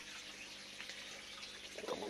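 Soaked fish food and water poured from a jar into a koi pond during evening feeding, a soft, faint continuous gush of liquid with a slightly louder splash near the end.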